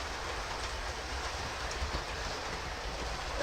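A passing train rumbles steadily with a broad, noisy roar and faint clicking, moderately distant and continuous.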